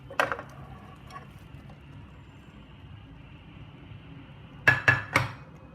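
Vegetables tipped into a pan of masala with clattering metal and utensil clinks: a sharp rattle at the start, a lone tap, then three close, loud clanks near the end over a quiet background.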